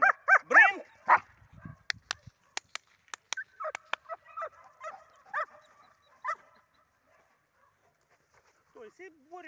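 During fetch training a dog plays tug, growling, yipping and whimpering in short excited bursts close by, mixed with sharp clicks and a few brief human voice sounds.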